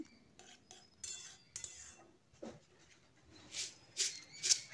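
A spoon stirs tomato chutney with lemon juice in a pan, giving scattered close metallic scrapes and clinks in short bursts, sharper and louder toward the end, with no voices.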